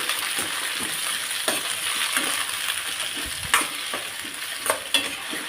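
Tomatoes fry in a pan for a hotel-style tomato chutney: a continuous hiss of sizzling oil broken by occasional spoon stirs and sharper clinks against the pan, with no talking.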